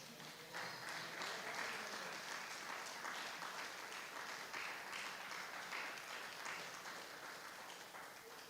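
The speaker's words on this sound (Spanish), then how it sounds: "Denle un fuerte aplauso a nuestro Padre" A church congregation gives a strong round of applause for their pastor, steady continuous clapping heard at a quiet, distant level throughout.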